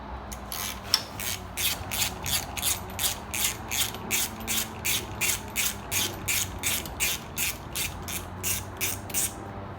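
A hand ratchet clicks rapidly in steady rhythmic bursts while backing out 10mm bolts on a 2000s Honda Civic, close and clear, repeating about twenty times without talk.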